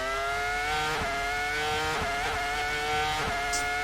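A modern Formula 1 car fitted with a V10 engine accelerates hard in a racing video game, its high shrieking engine note rising in quick bursts with sharp dips at each upshift, roughly once per second.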